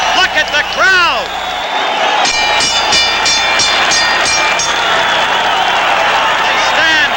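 A boxing crowd rises to its feet during a toe-to-toe Hagler vs. Antuofermo fight, roaring and applauding in a loud, continuous wash of cheers, with a commentator talking over it.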